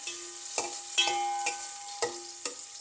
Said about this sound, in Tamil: இதெல்லாம் கொஞ்சம் பொரிய விடுவேன் வெங்காயம் கருவப்பட்டை கராம்பு ஏலக்காய்